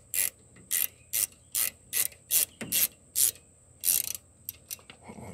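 A ratchet wrench clicks in quick, even bursts while turning a bolt on the rear brakes of a 2010 Subaru Forester, about a dozen close, sharp strokes with short pauses between.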